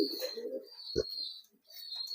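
A racing pigeon coos softly in a few low, rounded calls, with a thin high chirping and faint background noise around it.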